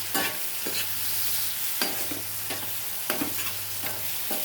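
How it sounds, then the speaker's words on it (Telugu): Tomatoes simmer and fry in oil in a pan, a steady close sizzle with a few intermittent stirring scrapes cutting through and no voices. "చూసారుగా మగ్గుతుంది శుభ్రంగా."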